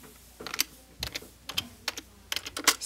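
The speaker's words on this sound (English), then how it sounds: "So, we're going to type in Pacman" Keys clack on a computer keyboard in quick bursts and single taps, close up and crisp, with short pauses between keystrokes and no speech.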